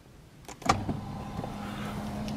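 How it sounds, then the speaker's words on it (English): A car's memory seat motor adjusting, a clunk followed by a steady low electric whir that hums on for over a second, close and fairly quiet. "There goes the memory seating"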